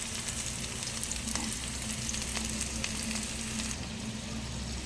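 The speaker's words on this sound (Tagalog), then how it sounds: "nailagay ko na yung corn beef sa sandamakmak na sibuyas" Corned beef frying in a pan with a heap of onions gives a steady, close sizzle that runs unbroken, with faint stirring scrapes over it and no talking.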